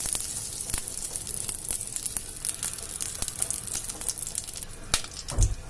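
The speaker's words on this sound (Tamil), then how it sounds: "இப்ப ஒரு கடாயில வந்துட்டு பட்டர் வச்சிருக்கேன்." Butter melting and sizzling in a kadai for white sauce macaroni, a soft close sizzle with scattered crackles and pops, fairly quiet, with no talking.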